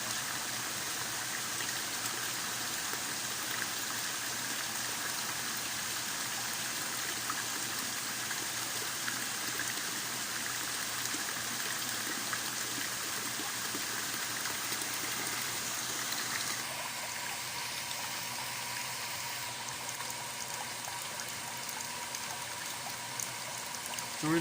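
Water slowly draining away during a nursery renovation, a steady faint trickle and gurgle with a constant hiss that softens partway through, with no talking.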